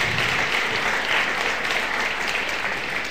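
Steady applause from an audience for a saxophone quartet fills the space, an even wash of clapping that holds at the same level throughout without voices.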